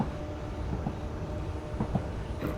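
A JR West 103 Series commuter train in Train Sim Classic runs steadily, a continuous low rumble with faint clicks and rattles over the track throughout. No one speaks.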